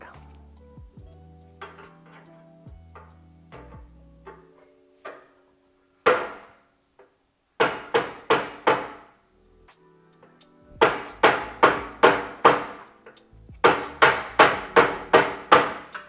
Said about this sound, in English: need something to hit with a hammer.